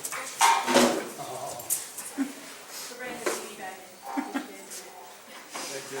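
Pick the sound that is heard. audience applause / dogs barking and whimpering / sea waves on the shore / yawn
dogs barking and whimpering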